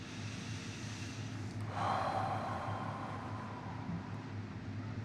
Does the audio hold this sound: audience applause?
no